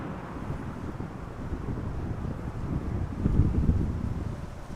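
Strong gusting wind at Amsterdam Schiphol Airport, a steady roar buffeting the microphone and swelling louder near the end, with no voices.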